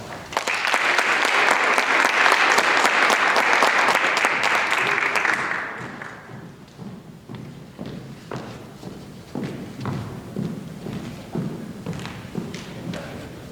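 Audience applause at a high school honors ceremony, a loud, dense burst of clapping for about five seconds that fades into scattered claps, footsteps and light movement in the hall.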